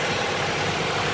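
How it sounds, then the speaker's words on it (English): The 2-liter Atkinson-cycle four-cylinder engine of a 2019 Ford Fusion Hybrid restarts and runs, a steady loud broadband rumble and whir heard close under the open hood, with no voices. "There's the motor kicking back in."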